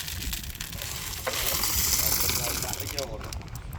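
Food fries in a pan with a steady, close sizzle and occasional stirring scrapes, while people talk over the cooking.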